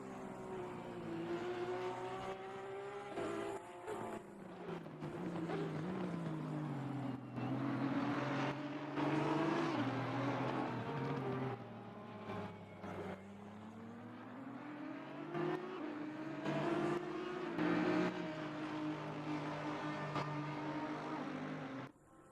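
Porsche race car in a sim racing endurance game at Silverstone, engine droning steadily at high revs with rising and falling pitch through gear changes, loud and continuous throughout.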